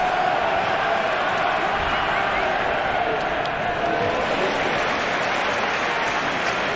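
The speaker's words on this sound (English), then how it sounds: "Crowd trying to taunt Spencer Strider here in the first inning." Baseball crowd jeering pitcher Spencer Strider in the first inning, a dense continuous roar of voices filling the stadium, with a broadcaster talking over it.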